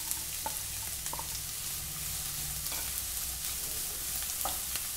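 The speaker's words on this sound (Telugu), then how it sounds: "కొద్దిగా ఫ్రై అయిన తర్వాత మనం కట్ చేసి పెట్టుకున్న క్యాబేజ్ని వేసేయాలి." Chopped cabbage fries in a pan for cabbage egg burji, making a soft, continuous sizzle with occasional light stirring clicks, fairly quiet and without voices.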